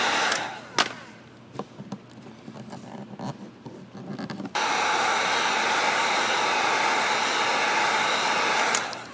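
A heat gun warms smoked lens tint film on a Ford Bronco Sport light, first with scattered handling clicks, then a steady loud blowing roar that holds for several seconds before cutting off.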